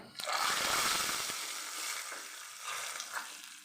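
A sudden loud sizzling hiss erupts as hot oil tempering hits split green gram lentil soup, then settles into a steady bubbling fizz with a few soft clinks.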